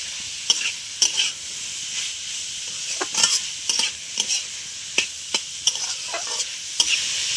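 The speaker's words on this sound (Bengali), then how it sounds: "গাজরটা একটু ভেজে নেব" Carrots and peas frying in a pan with green chillies, a steady hiss of sizzling broken by sharp scrapes of a spatula stirring at uneven intervals, close up and with no talking.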